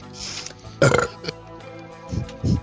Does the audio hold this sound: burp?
yes